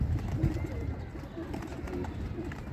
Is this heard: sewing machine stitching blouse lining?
no